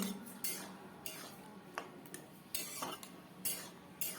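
A spatula scrapes and taps on a pan while spice paste with ginger is stirred and fried down, sharp clinks and scrapes in an irregular rhythm over a quiet background, no voices.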